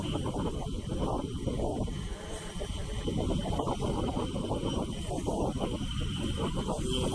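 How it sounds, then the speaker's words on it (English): Constant heavy wind buffeting a microphone, a loud low rumble and roar that persists throughout with no clear speech. "Sorry for the wind noise."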